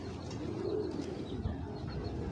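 A Giribaz pigeon, an original Afsan female, gives soft, low cooing at close range over a steady background murmur.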